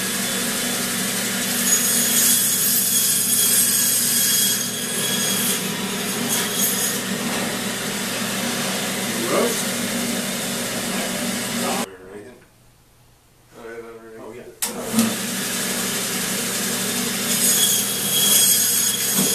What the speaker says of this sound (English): Can we cut that off on the bandsaw?